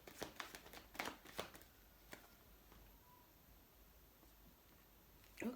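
Tarot cards are shuffled quietly, with a few soft riffling flicks near the start and another brief shuffle at the end, separated by near silence.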